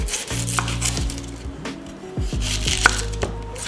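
A yellow onion being chopped with a knife on a cutting board, a quick run of close, crisp knocks in uneven bursts with short pauses between them.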